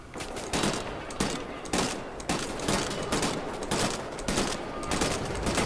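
Rapid machine gun fire in the Wolfenstein: The New Order shooter game, sustained loud bursts of automatic shots repeating every second or so across the whole stretch, with no talking.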